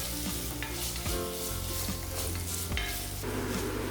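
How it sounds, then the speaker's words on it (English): Paneer sautéing in a pan, a steady close sizzle with a few scraping stirs and clinks of a utensil, continuous and fairly loud throughout with no voices. "Next goes paneer, as sauteing paneer at this step helps in retaining the texture of paneer"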